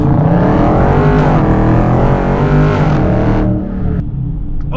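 A Dodge Charger Scat Pack engine roars loudly as it accelerates hard, pitch climbing and dipping through gear changes before settling into a lower rumble.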